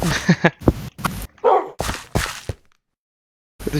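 Dogs bark in a video game in a run of short, sharp bursts close by, with a brief whimpering yip in between, followed by a pause of silence.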